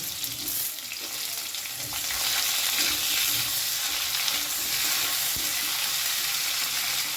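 Vegetables with tomato frying and being stirred in a pan, a steady broadband sizzle with scraping of the spoon, close and continuous without talk.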